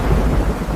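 A short, loud burst of thunder rumbles deep and heavy under falling rain during a storm.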